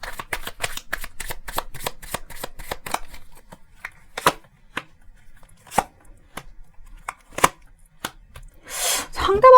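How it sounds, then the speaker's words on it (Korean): Tarot cards being drawn and shuffled during a reading, a quick run of crisp card snaps at first, then sparser single slaps and flicks, with a brief riffle near the end. "카드를 조금 더 뽑아보도록 하겠습니다."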